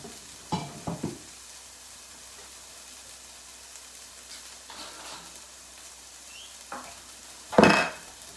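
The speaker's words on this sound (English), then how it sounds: "So, onions are cooking down nicely now." Onions cooking down in a frying pan while making meatballs, giving a low steady sizzle with a few scraping stirs near the start and a sharper clatter near the end.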